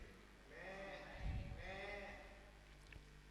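Several people imitate a goat's bleating with their voices during a religious discourse, producing a pair of wavering, nasal bleats in a row, fairly close and moderately loud, followed by brief chatter.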